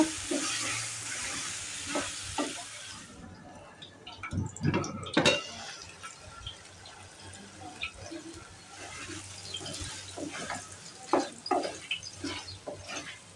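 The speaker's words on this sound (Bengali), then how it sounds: "মশলার সাথে আলু আর পটল ভালো করে কষে নেব।" Potatoes and pointed gourd fry with spices in a pan, giving a soft, quiet sizzle broken by irregular scraping and clattering knocks from stirring.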